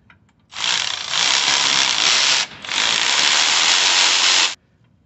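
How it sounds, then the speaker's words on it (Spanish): Impact wrench or ratchet running on 13 mm bolts under the passenger-side engine mount of a 2010 Chevy Tahoe: two loud continuous whirring bursts of about two seconds each, separated by a brief pause. "enseguida vamos para la parte de abajo para quitar dos tornillos"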